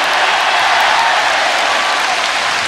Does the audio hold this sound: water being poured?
no